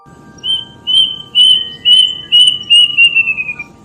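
A single banded bay cuckoo whistles a series of about seven clear, evenly spaced notes that drift slightly lower toward the end, loud and close against a quiet background.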